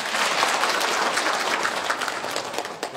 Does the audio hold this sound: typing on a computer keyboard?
no